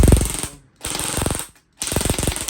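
A Classic Army M133 airsoft mini vulcan spins its rotating barrels slowly, giving three loud, close bursts of rapid mechanical ratcheting separated by short silences.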